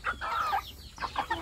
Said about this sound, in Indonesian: Ayam Afrika.